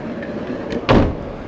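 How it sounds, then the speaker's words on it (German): The sliding door of a 2021 Westfalia Amundsen 540D camper van on a Fiat Ducato rolls and shuts with a solid thud, preceded by a faint click, over steady low background hum. "Mach mal kurz die Tür zu, bitte"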